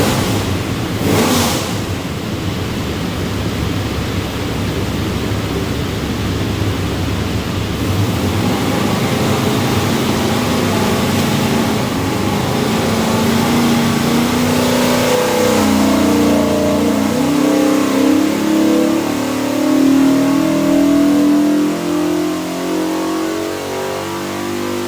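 408ci LS V8 built as a drop-in crate engine for a 1966 Chevy C10, revving on a dyno, holding a loud sustained roar that climbs steadily in pitch through a full pull, close and with no talk.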